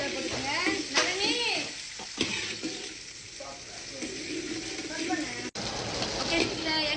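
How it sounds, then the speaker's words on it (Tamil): Mustard seeds crackle and sizzle in very hot cooking oil for a long bean stir-fry, a dense steady frying hiss with scattered pops, close up, while a voice talks over it. "அடுத்து கடுதல் போட்டுக்கோங்க"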